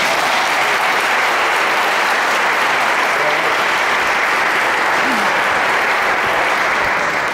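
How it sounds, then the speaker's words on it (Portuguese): A church congregation at a Catholic Charismatic Renewal revival service applauds loudly and steadily, a dense wash of many hands clapping that fills the room without pause, with faint voices mixed into the crowd. "Então pode aplaudir Jesus Cristo."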